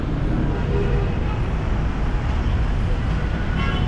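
Road traffic fills the air with a steady, continuous rumble of passing cars and buses, a broad, unbroken roadside drone.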